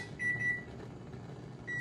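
Two electronic kitchen timer beeps, a longer tone early and a shorter one at the end, over a quiet background hum.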